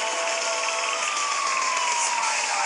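Police sirens wail in the video game Gangster Rio, a loud, steady electronic tone with a slowly falling pitch over constant traffic noise, with no talk.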